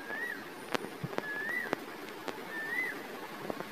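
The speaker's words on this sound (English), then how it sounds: "there's a bird sound behind me" A bird calls behind a Bed Wars game session, repeating short rising-and-falling whistled notes three times at a steady spacing, quiet and distant under sharp intermittent clicks.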